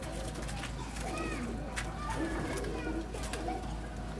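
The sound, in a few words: pigeons cooing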